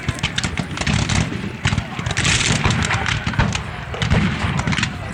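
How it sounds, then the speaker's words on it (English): Cannon fire at an Antietam Civil War reenactment near Bloody Lane comes as heavy booms and thuds among dense outdoor crowd and battlefield noise, loud and rough throughout. "when he fires the gun, the cannon recoils anywhere between 3 to 12 feet"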